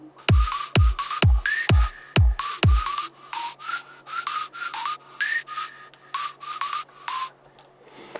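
A synthesized whistle-like lead made in Spire plays a bright, rhythmic melodic line of short notes, with punchy thuds under the first few beats.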